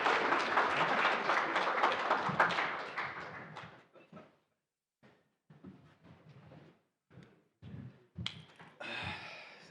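An audience at an infrastructure funding panel gives a few seconds of loud, dense applause that fades out, followed by scattered isolated claps and small room noises.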